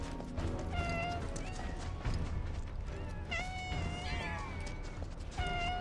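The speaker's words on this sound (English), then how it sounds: "So I'm gonna hear the kittens meowing." Kittens meow repeatedly in the Final Fantasy VII Rebirth video game, with several high mewing calls overlapping one another against a steady background of game ambience and music.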